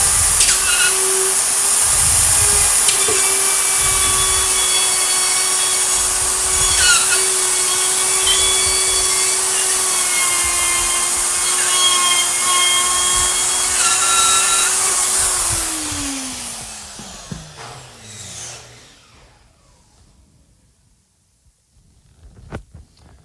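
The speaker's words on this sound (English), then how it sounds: "I'm just going to take the router, find the edge, and go in a counterclockwise direction" A router cuts drywall around an electrical box, moving counterclockwise with a loud, steady high-pitched whine that holds for about fifteen seconds before winding down and fading to near silence, ending with a few faint clicks.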